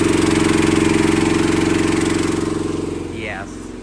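A Champion 8750W generator engine running under full load on natural gas drones steadily with a strong low hum, its speed sagging and pitch dropping toward the end.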